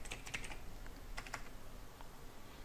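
Steady typing on a computer keyboard, with quick clusters of crisp key clicks and short pauses, close and clear with no talking.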